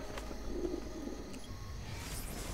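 A pigeon coos softly in Assassin's Creed Brotherhood, a few low murmuring calls over quiet game ambience, with a faint hiss rising near the end.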